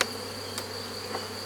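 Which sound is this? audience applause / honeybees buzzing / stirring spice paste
honeybees buzzing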